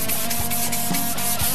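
Sandpaper scrubs old paint off a 1930 Ford Model A in quick, repeated back-and-forth strokes, a close, steady rasping rhythm with no speech.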